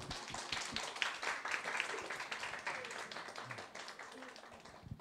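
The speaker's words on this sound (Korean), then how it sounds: "박수 한번 하시죠." Applause at a church course graduation ceremony: a room full of people clapping steadily for several seconds, moderately distant, with some voices mixed in.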